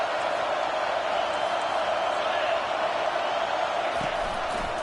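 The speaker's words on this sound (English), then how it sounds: "this crowd is turning it up a notch" Stadium crowd in the NCAA Football 25 video game roars as a steady, dense wash of cheering with no breaks, loud and close throughout.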